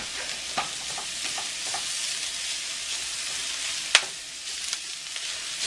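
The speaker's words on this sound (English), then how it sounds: "Let it cook down. You can see it's already starting to cook down." Greens cook down in a pan with bacon, giving a continuous close sizzle and hiss with a few scattered pops and one sharp crackle near the middle.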